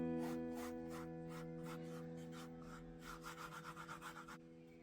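Fingers rubbing art sand into the seams of model sidewalk blocks, soft close gritty rubbing strokes in short bursts, quicker and more regular toward the end, over a steady low hum.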